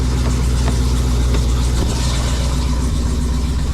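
A 797-horsepower Jeep Trackhawk Redeye V8 idles on a cold Michigan day after a cold start, a loud, close, steady low rumble with a slightly uneven lope.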